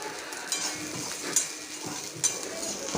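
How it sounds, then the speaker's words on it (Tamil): Salt and tamarind are stirred and dry-roasted in a pan, giving a faint, continuous scraping rustle with a few light knocks of the utensil against the pan, close and quiet. "இப்போ இந்த உப்பு புளி எல்லாத்தையும் நல்லா பொறுமையாக வறுத்து கொடுங்க"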